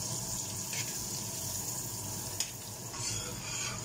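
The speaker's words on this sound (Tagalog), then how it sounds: "So, tunawin lang natin ang ating butter." Butter melts in a pan with a soft, steady sizzle and faint crackle, fairly quiet and continuous, punctuated by a couple of small clicks, without any talking.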